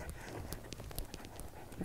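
Horse hooves trotting during dressage training, a steady clip-clop rhythm of close footfalls under an even background, with no one speaking.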